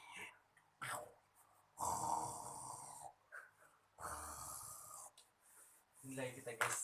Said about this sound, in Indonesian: lagi ngeprank teman kita yang lagi ngorok